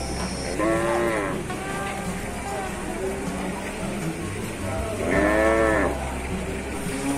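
Cattle and buffalo at the Sibreh animal market in Aceh Besar give two long, loud moos a few seconds apart over a steady crowd murmur.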